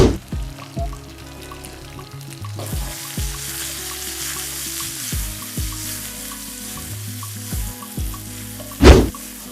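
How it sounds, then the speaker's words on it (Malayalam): Small eggplants cut in quarters frying in a pan with garlic, shallots and turmeric, a steady hiss of oil with occasional stirring knocks and one sharp burst of sizzle near the end, close and loud. "ഇതിലേക്ക് ചെറിയ സൈസുള്ള വഴുതനങ്ങ 4ആയി കട്ട് ചെയ്ത് നമുക്ക് ഒരു 1/2 കിലോ പാനിലേക്ക് ഇടാം"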